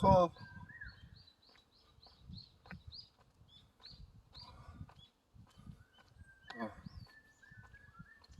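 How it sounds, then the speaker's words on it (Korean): Birds sing with repeated high chirps and short trills at moderate distance, over low rustling and handling noise with occasional voices. "새소리 좋고"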